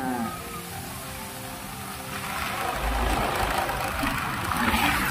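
A borrowed motorcycle runs at an easy 30 to 40 km/h cruise, a steady low engine drone mixed with road and wind noise that swells slightly toward the end.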